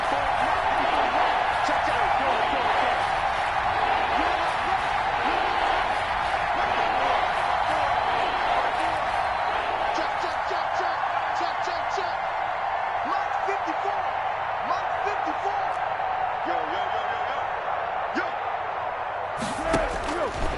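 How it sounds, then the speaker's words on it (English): Stadium crowd in a football video game roaring steadily on a third down, urging on the defense, a dense continuous wall of cheering and noise with a commentator talking over it. "this crowd urging on their defense. They're up and making noise."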